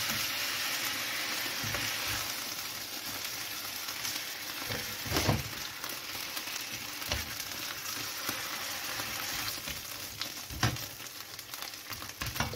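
Beef sears in a hot pan as it builds a browned crust, giving off a steady close sizzle and frying crackle. A few louder scrapes and stirring knocks break in now and then, with no voices.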